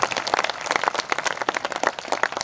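Audience clapping and applause at a Hindi kavi sammelan poetry recital in Sehore, a dense burst of many hands close and loud, with no speech over it.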